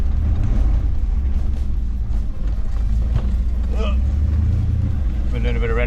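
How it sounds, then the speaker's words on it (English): A Chevrolet Suburban rolls out of a driveway and over gravel, its low engine rumble steady and close throughout with faint crunching mixed in, while people talk over it. "we'll go over that gravel"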